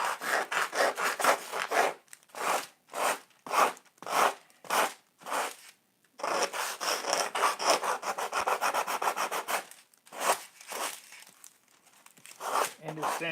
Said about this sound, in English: And to sand off the wood I added, the filler.